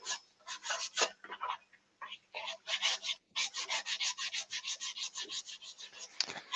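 A finished wood-turned piece is sanded by hand in quick, rhythmic back-and-forth strokes, each one a close scratchy rasp, with a couple of brief pauses.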